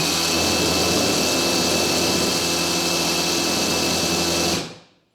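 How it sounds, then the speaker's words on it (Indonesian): A loud, steady drilling roar with a hard hammering buzz from a Tekiro CD-RH2265 cordless brushless rotary hammer in hammer mode runs continuously for several seconds, then cuts off and fades quickly. "Ini kita mulai dari mode rotary hammernya ya. Jadi dia mutar dan ada impact-nya."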